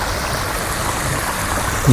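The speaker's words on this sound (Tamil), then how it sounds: "தண்ணி எப்படி ஓடிது பாருங்கள்" Water rushes steadily in a continuous, full flow, like a nearby stream, from a designed water feature in the Japanese Garden in Singapore, with no other sounds standing out.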